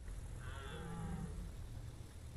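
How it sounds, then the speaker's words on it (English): A moo dog creature in the Space Engineers video game lets out a single drawn-out mooing call, fairly faint and distant over a low steady background hum. "I heard moo dogs."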